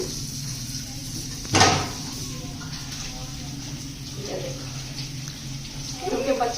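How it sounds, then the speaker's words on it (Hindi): Tap water runs steadily as potatoes are washed under it in a home kitchen, with a sharp knock early on and someone talking over the flow. "आलू को भी धो लेती हूँ"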